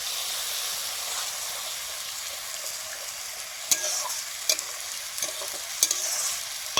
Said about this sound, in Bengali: জিরে ধনে বাটা, মশলাটা একটু জল দিয়ে কষে নেব।